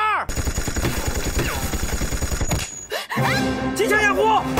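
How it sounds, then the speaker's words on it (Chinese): Rapid bursts of machine gun fire in a war film battle over anti-Japanese fighting, loud and close, with shouted voices mixed in and a brief pause before more firing and yelling. "机枪掩护"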